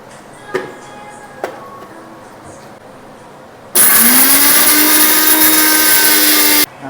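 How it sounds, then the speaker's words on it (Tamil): A mixer grinder grinds roasted biryani masala in a loud, steady motor whir of about three seconds, starting abruptly and cutting off sharply, preceded by a couple of faint knocks. "வறுத்த பிரியாணி மசாலாவை அரைச்சிருவோம்"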